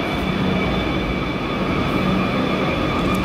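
A Kolkata metro train pulls into Kalighat station with a steady, fairly loud underground rumble and a thin whining hum throughout. No one speaks.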